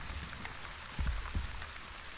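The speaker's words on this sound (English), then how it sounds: "The rain." Game rain falling in The Wandering Village, a soft, steady patter of raindrops with a couple of low thuds, heard faintly in the background with no voices.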